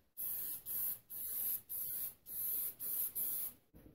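Aerosol release agent sprayed as a fine mist onto a fiberglass model RC boat hull mold, about seven or eight steady hissing bursts of varying length separated by short pauses, close and fairly loud with no talk.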